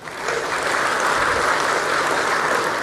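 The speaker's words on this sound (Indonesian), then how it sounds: "Ini yang harus kita tepuk tangani." Steady broadband applause from a large audience, dense and continuous for the whole stretch, with no clear voices over it and a slight rise just after the start.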